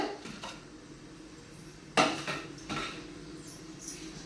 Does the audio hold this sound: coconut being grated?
yes